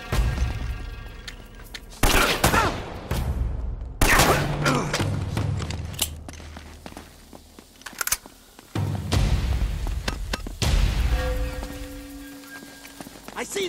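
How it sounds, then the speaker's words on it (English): Gunfire in the Uncharted action video game, with bursts of shots and impacts arriving in several loud clusters across the scene, mixed with game ambience and someone speaking over parts of it. "They're shooting at you too"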